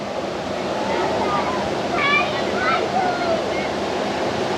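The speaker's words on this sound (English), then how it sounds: "That's beautiful waterfall there." Abrams Falls in the Great Smoky Mountains roars as a steady, dense wash of falling water, with faint bird chirps above it.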